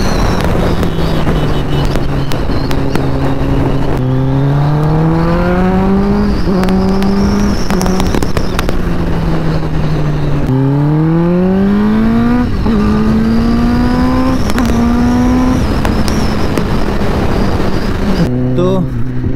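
A Kawasaki ZX sport motorcycle accelerates hard through several gears on a road trip from Kolkata to Digha, the engine note climbing and dropping with each shift, loud and close, with wind roar throughout.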